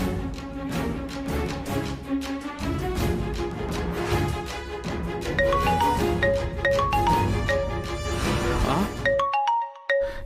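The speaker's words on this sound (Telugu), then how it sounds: "ఇదేంటి, కాంతమ్మ గారు ఫోన్ చేస్తున్నారు?" A phone ringtone plays a melodic electronic tune continuously for several seconds, loud and close, then cuts off briefly before a few final notes.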